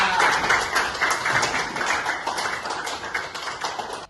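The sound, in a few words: applause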